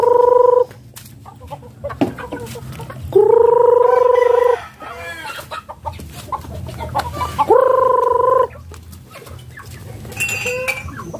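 Several Bisaya chickens cluck and squawk loudly in bursts as they are called in to feed, with scattered softer clucks and rustling between the louder calls.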